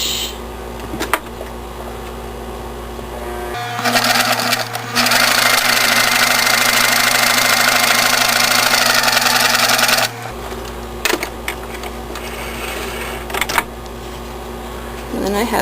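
A sewing machine runs in one long continuous burst, stitching quilt blocks with a quarter-inch seam for a Winnie-the-Pooh baby quilt, with quieter handling sounds before and after the run.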